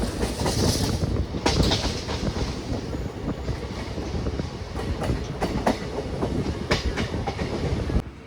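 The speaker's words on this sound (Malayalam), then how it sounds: "മൂന്ന് മിനിറ്റിൻ്റെ ഹോൾട്ടിനേഷൻ്റെ കോട്ടയത്തിൽ നിന്ന് എടുത്തിരിക്കുകയാണ് നമ്മുടെ ട്രെയിൻ" A train rumbles steadily along the rails with repeated clacking wheel beats as it pulls away from Kottayam station and gathers speed, loud and close throughout.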